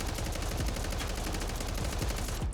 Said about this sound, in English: you end up with an incredibly fast firing but controllable SMG style gun